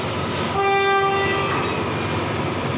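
Express train No. 111 at Chum Saeng station in Thailand sounds its horn, a loud multi-tone blast lasting about a second over steady rumbling rail noise, with no talk.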